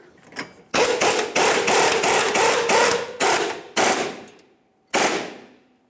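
Fuel pump strap mounting bolt on a 2000-2006 Chevrolet Tahoe being snugged up, likely with a power ratchet or impact tool: several loud, close mechanical bursts of rapid rattling, the first few long and the last ones short, with pauses between.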